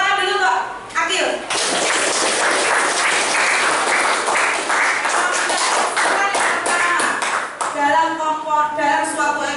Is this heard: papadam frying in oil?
no